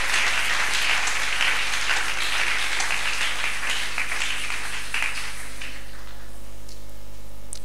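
Congregation at a Sunday church service breaking into loud, sustained applause and clapping, dense and close, then thinning out near the end over a steady low hum.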